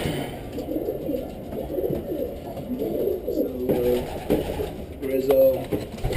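Pigeons in a loft give soft, throaty repeated coos, a few close calls rising toward the end over a background murmur of movement and low voices.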